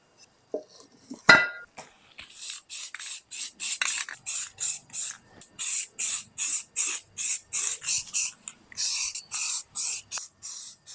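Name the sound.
spray painting rear brake drums of a 1971 Toyota Celica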